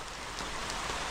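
Rain falls steadily on surfaces at a Sri Lankan outdoor spot near the Nine Arch Bridge, a dense, even patter of drops that fills the whole brief moment with no voices.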